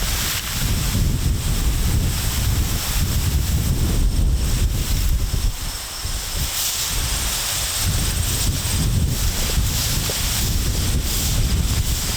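Strong wind roars and buffets the microphone continuously, a loud rushing blast that barely eases for a moment midway.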